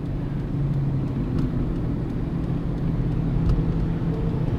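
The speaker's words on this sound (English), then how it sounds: "Oh, perfect time for a semi to go by." A semi truck rolls past along a road, its heavy low rumble steady and moderately loud over traffic noise, with a passing swell partway through and no voices.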